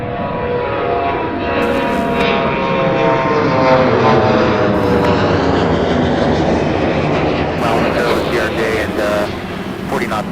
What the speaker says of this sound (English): And then we have the Southwest taxiing.